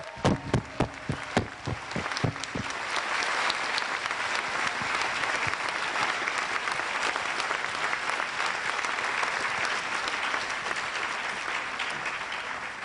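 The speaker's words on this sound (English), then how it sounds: "join me in giving a round of applause and a cheer or two to the family and friends who made it all possible for you" An LSE graduation ceremony audience gives sustained applause: a few sharp, separate claps at first, then a dense, even wash of clapping from a large crowd that carries on for over ten seconds.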